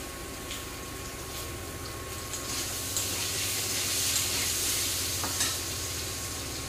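Chillies and other ingredients frying in a pan for a Bengali chuka dish, giving a steady close bright sizzle with slight swells and a few sharper crackles, with no talking.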